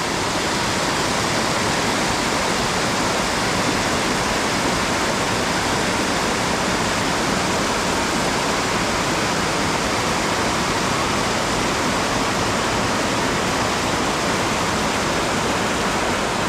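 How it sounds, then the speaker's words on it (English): A waterfall on a trout stream in Iowa's Driftless Region roars with a loud, constant broadband rush of falling water. The sound stays unbroken and close for the full sixteen seconds, with no voices. "Beautiful, beautiful waterfall, you guys."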